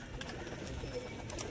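Pigeons, including a male, coo softly in a loft on a rainy day: a faint, low, rolling murmur against a steady hiss of background noise.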